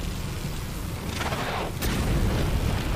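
A Halo Wars 2 EMP explosion sound effect: a swelling electronic boom that builds and cuts off sharply, over constant background noise.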